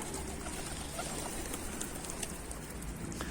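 Pigeons, including an Ayna kuyruk tumbler pigeon, coo softly against a faint background hiss, with a few scattered low calls and no one speaking.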